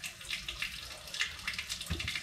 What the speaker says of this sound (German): Sprich, ich mache das T-Shirt nass.